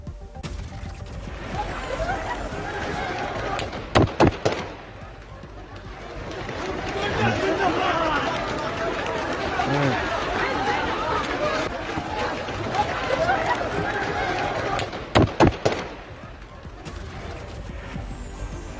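A large crowd stampedes and shouts in a dense, continuous roar at Kabul Airport, with several sharp gunshot cracks bursting out near the start and again near the end.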